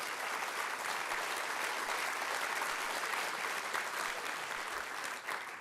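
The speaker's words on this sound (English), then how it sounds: "And they deserve a round of applause either" Sustained, dense audience applause for first responders after Hurricane Matthew, heard during a governor's address to a House appropriations committee, loud and steady across the whole stretch.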